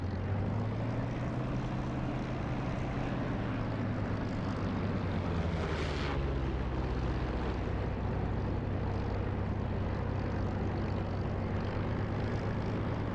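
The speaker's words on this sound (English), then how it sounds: "Nice little flybys by Warhawk there and his P-47" A P-47 propeller engine in War Thunder drones steadily as it flies by, a thick rumbling roar with a brief swell midway.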